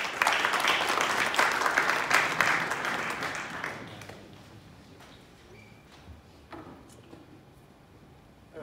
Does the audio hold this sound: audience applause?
yes